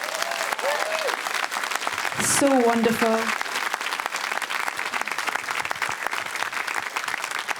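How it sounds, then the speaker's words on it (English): Audience applause fills a film Q&A with British director Gareth Edwards about The Creator, loud and steady throughout, with a voice briefly speaking over it near the start. "Can we have another round of applause, please?"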